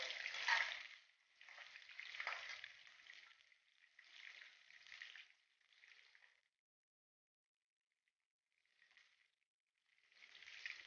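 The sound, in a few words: paneer pieces frying in a pan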